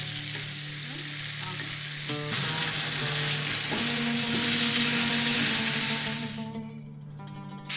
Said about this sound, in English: Add the air fried fish pieces and toss everything gently so the fish doesn't break.